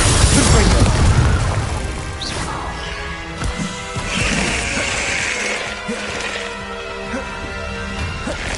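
A Confringo spell blast in Hogwarts Legacy, a loud crashing burst that opens the stretch and then falls back into rumbling battle noise with softer impacts.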